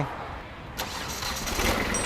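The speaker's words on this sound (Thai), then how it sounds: "เดี๋ยวเรามาสตาร์ทดูกันนะครับว่าเครื่องยนต์เป็นยังไง" A backhoe tractor's diesel engine cranks and catches about a second in, then settles into a rough, rising mechanical roar that stays loud and close to the end.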